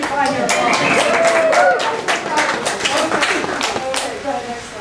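Audience at a poultry workshop breaking into a short burst of dense clapping and cheers, close and lively, fading slightly after a few seconds as voices continue underneath.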